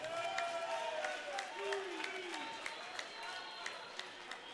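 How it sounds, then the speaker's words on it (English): At a boxing bonanza event, an audience gives a burst of applause for two boxers, with clapping and crowd noise from a moderate distance and a voice running over it. "Give the two boxers once more a load of applause."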